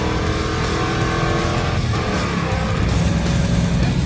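A supercharged 302 V8 in a restored 1965 Ford Mustang, nearly blown up, revs loud and close, a dense continuous roar with no one talking.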